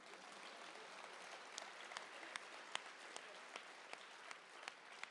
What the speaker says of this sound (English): Go ahead, clap.